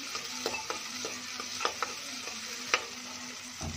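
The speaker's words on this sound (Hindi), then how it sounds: "ब्राउन होने तक इसको, प्याज को मैं भून लूंगी।" Chopped onions and green chillies frying in a pan for a stuffed tinda dish, stirred now and then, with a steady close sizzle and a few sharp scraping clicks of the spoon against the pan.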